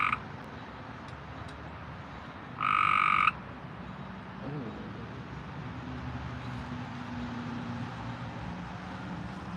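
A frog croaks loudly and close in one short, rasping burst, then leaves low steady background noise with faint later sounds.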